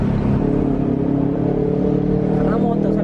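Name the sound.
loud motorbike engine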